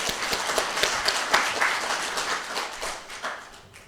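Congregation applauding during a Sunday morning church service, a steady wash of many hands clapping that fades gradually toward the end.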